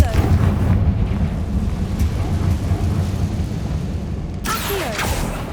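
Confringo fire spell explosion in the Hogwarts Legacy video game, a heavy rumbling boom that swells and rolls on for several seconds, loud and low, with a sharper crackling burst near the end.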